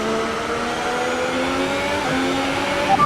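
Formula 1 car in F1 2018 accelerating back up to racing speed, a steady high engine whine with rising harmonic tones, loud and close, no voices.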